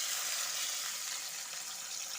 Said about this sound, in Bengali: এখন আমি মাছগুলো ছেড়ে দিচ্ছি।